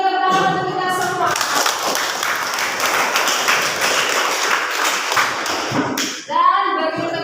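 Classroom of students applauding, dense steady clapping for about five seconds with voices speaking before and after.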